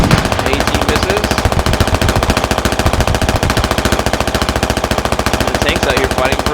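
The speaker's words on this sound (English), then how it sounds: "And the tank's out here fighting for his life. Just spamming coax." A tank's coaxial machine gun in the video game Squad fires a long, unbroken burst of rapid, evenly spaced shots, loud and close, for the whole stretch.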